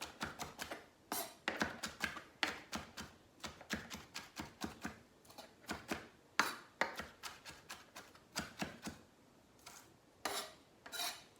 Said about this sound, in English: green onion is cut up